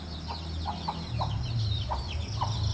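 Several chickens cluck in short, scattered calls over a steady low background hum, fairly close by with no talk over them.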